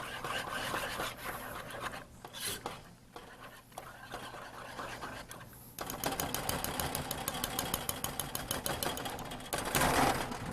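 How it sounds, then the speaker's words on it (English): Sauce with cream being whisked in a bowl, a steady scraping, rattling rhythm that grows faster and denser in the second half, close and continuous with no voices. "And I'll just whisk that together."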